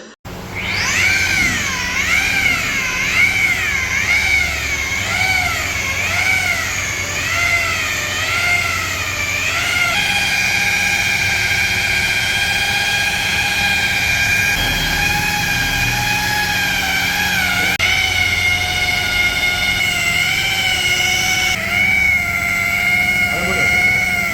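Car polishing machine running with Menzerna heavy cut compound on an Altroz, a loud sustained whine that wavers in pitch at first, then holds steady and shifts tone as the pad presses on the paint.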